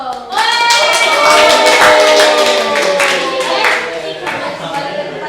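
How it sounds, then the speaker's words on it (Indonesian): Classroom audience of students clapping together in a burst of dense, lively applause that swells and then tapers off, with some voices mixed in. "Tepuk tangan dong."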